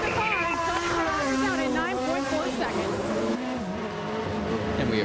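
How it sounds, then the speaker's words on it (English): IndyCar race car at Michigan in 2006 accelerating out of pit lane onto the track, its high engine whine sweeping upward through the gears, steady and loud beneath a commentator's continuous talk. "as Tony streaks back out onto the track"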